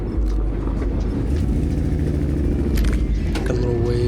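A lowrider car rolls past at a cars and coffee meet, its engine giving a steady low rumble close by with some faint clinks and mechanical sounds over it.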